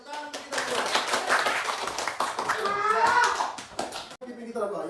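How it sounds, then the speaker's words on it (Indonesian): Hands clapping together in a classroom, a burst of quick claps from children that rises loud for about four seconds, then cuts off as voices carry on talking. "Tepuk tangan untuk kita semua."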